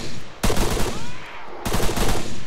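Two loud, close gunshots crack out in ARMA 3 during a zombie sandbox mod fight, over a steady background of game noise.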